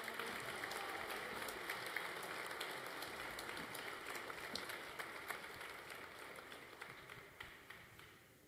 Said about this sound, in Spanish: Un fuerte aplauso para todos ellos